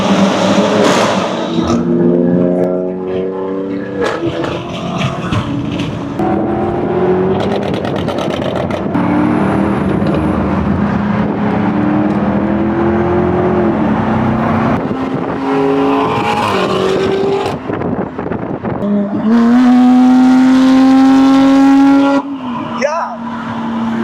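Straight-piped BMW M4 F82 roaring through repeated hard accelerations, its loud exhaust sweeping up through the gears with crackles between pulls, while people talk over it inside the car.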